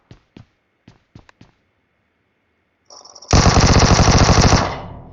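Rapid automatic gunfire in PUBG Mobile: a few sharp isolated shots, a short pause, then a loud sustained burst of fast repeated rounds lasting over a second before cutting off.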